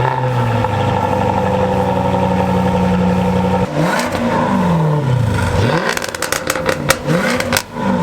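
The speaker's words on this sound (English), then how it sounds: "Let's see how this Jag sounds" Crashed Jaguar F-Type SVR engine revving up and down hard, steady idle rumble giving way to repeated sharp throttle blips with rising and falling pitch, loud and close, no talk.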